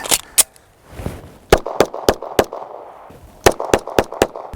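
Glock pistol fired with 147 grain ammunition through a Tyrant Designs T Comp compensator: two opening shots, then two quick strings of about four sharp, loud cracks each, evenly paced, with outdoor echo trailing between.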